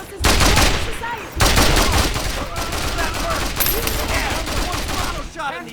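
Heavy gunfire in the video game Mercenaries 2: World in Flames, with loud, dense bursts of automatic fire and overlapping shots running almost the whole time, a short break near the start, and shouting mixed in.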